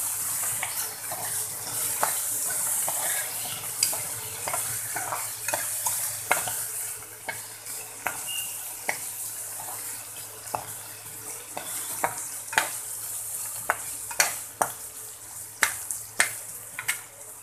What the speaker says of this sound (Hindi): अच्छे से फ्राई करूंगी लहसुन को।